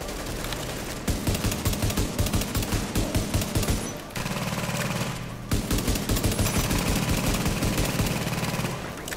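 Rapid repeated gunfire in a video game, a dense run of close, loud shots in steady bursts with a brief pause around the middle.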